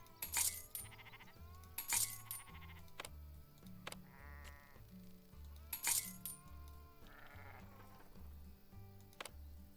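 Sheep bleating in the farm video game Farm Manager 2021, several short bleats one after another alongside clinking coin-like game sounds over a soft repeating music bed, no talking.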